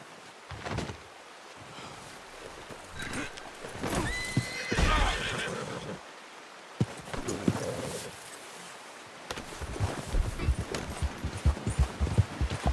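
A horse in Red Dead Redemption 2 whinnies and snorts, then hooves clip-clop steadily on hard ground, fairly close, with a few sharp knocks in between.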